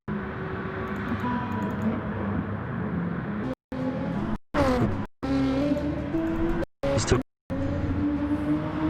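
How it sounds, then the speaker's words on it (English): A McLaren race car screams around the Bathurst circuit in an online racing game championship, a loud continuous high engine whine with shifting pitch, cut by a few brief gaps, under commentary talk. "Right now the McLaren's tyres are probably screaming for grip."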